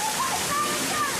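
Rushing, splashing water pours steadily and loudly across an obstacle course on a kids' game show, a dense wash of spray that continues throughout.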